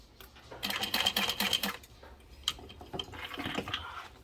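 A sewing machine stitches a fabric backpack, running in a fast mechanical whirring burst, pausing, then resuming in shorter bursts, close and moderately loud with no voices.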